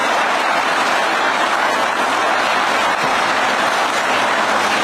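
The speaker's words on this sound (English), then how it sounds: "Let's get a round of applause for the great Secretary of Labor" A rally crowd inside a Michigan manufacturing plant applauds steadily, dense continuous clapping that stays loud and even throughout with no voices standing out.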